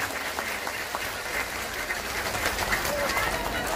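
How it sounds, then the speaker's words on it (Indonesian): Applause from a large religious gathering in Taichung, Taiwan rolls on as a steady, moderately loud wash of many hands, with faint voices mixed underneath. "Sekali lagi tepuk tangan untuk Banser Taiwan."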